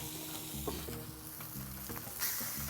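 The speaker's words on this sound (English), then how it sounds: "Now I'm gonna get my hamburger press and smash these out." Burger patties hiss and sizzle on a hot Blackstone griddle as a hamburger press smashes them flat, with a few metallic scrapes and taps over a steady, close frying crackle.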